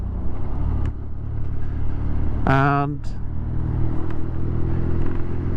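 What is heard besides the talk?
2023 BMW Scrambler motorcycle engine while riding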